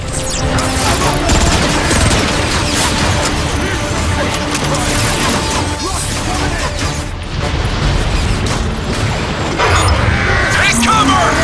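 Artillery strike explosions in Transformers: Fall of Cybertron go off as continuous booming, crashing blasts that fill the mix, dense and loud throughout with no pause.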